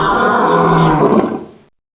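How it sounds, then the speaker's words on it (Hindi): A lion roars loudly from close by in one sustained, rough, rumbling call lasting over a second before it cuts off into silence. "शेर ने बेबी जिराफ को देखकर बाहर आया और जोर से दहाड़ा।"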